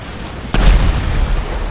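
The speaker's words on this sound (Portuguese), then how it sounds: "Caraca, tem carro explodindo na praça aqui." A car explodes in a town square on the Brazuca City RP server in Grand Theft Auto roleplay, with a single sudden, loud boom and a deep rumbling tail.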